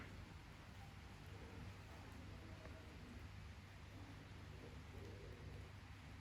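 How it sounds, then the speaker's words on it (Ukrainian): Light summer rain falls in a faint, steady patter, a soft continuous hiss with no talking. "Іде ось такий літній дощик."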